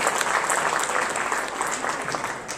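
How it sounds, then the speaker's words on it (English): An audience claps continuously as a school superintendent walks on stage at a school program event, a loud, dense roar of many hands that fades slightly toward the end. "You're going to keep clapping till he gets on stage."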